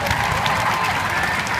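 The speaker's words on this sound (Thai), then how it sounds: "ขอเสียงปรบมือ" Concert crowd in Thailand applauding during band introductions, a dense, continuous roar of clapping heard close and loud throughout.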